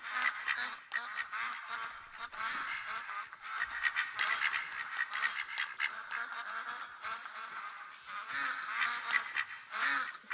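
A flock of mallard ducks calls in the hunting game theHunter: Call of the Wild, with a dense, steady stream of overlapping honks and quacks that continues for the whole stretch.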